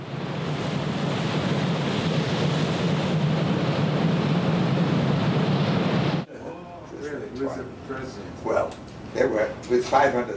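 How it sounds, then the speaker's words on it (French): Huge ocean waves break on a coast in a loud, continuous, rushing roar for about six seconds, then it cuts off abruptly and a voice talks over quiet background. "D'immenses vagues déferlent perpétuellement sur ces côtes."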